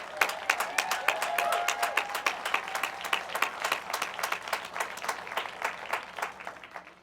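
Big round of applause from an audience at a Habitat for Humanity work project event in Denver, honoring Globeville residents; dense, steady clapping from many people that holds for several seconds and slowly thins.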